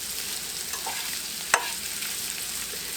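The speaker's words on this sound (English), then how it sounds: "I'm just going to let that cook and let the sausage kind of brown." A large sliced onion and lengths of sausage cook together in a skillet with a continuous close frying hiss, broken by a single brief clack near the middle. No voices are heard.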